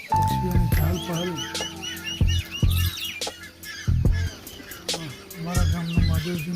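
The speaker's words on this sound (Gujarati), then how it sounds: "સવારે પક્ષીઓના કલબલ સાથે સવારની શરૂઆત થઈ ગઈ છે." Morning birdsong in a Gujarati village: many birds chirp and tweet in quick overlapping calls near and far, with occasional soft coos and a few low thumps underneath.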